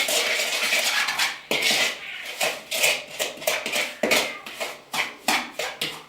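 Spoon working a sticky chocolate peanut butter pie crust mixture in a bowl, a series of close, irregular scraping and clinking strokes, quickening toward the end, with no talking.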